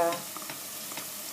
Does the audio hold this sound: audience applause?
no